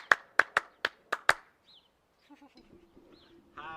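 Six sharp hand claps in a quick, slightly uneven rhythm, close and crisp, followed by quiet with faint murmuring.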